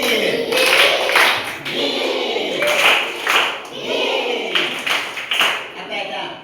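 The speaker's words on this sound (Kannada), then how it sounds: "ಈಗ ಗಿಲಿಗಿಲಿ ಚಪ್ಪಾಳೆ." Children clap together in a rhythmic 'gili gili' clapping game, loud and close, in repeating bursts of quick claps with short pauses between them, with voices underneath.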